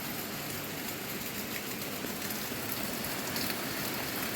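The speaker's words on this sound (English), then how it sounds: "Started raining extremely hard." Heavy rain falls hard during an afternoon thunderstorm, a dense, steady hiss that stays loud and unbroken from start to end, with no voices.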